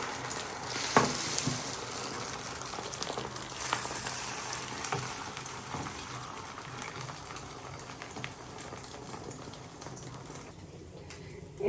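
Eggs sizzle steadily in a hot frying pan in a home kitchen, a continuous crackling fry, close and moderately loud, with light clinks of utensils now and then.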